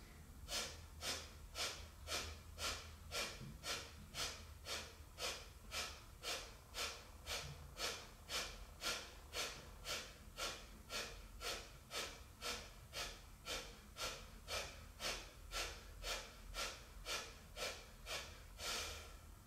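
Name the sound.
Kapalabhati yoga breathing, rapid forceful exhalations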